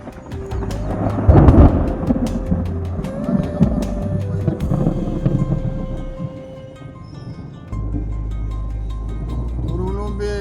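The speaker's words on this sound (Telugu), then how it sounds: "ఉరుములు మెరుపులు పిరుగులతో వచ్చేసిందండి వాన" Thunder rolls through a heavy, unseasonal rainstorm on the Rajolu island, with a loud rumble early on that fades into continuous rain and low noise.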